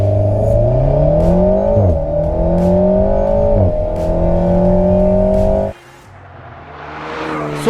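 An Alpine A110's small engine revs hard and loud, climbing through quick gear changes before dropping away to a lower rumble as another surge begins.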